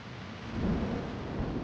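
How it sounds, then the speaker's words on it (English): Heavy rain pours down with a rumble of thunder swelling in the middle, a dense, steady hiss over a deep low roll, fairly distant and muffled, with no voices. "it has started raining heavily."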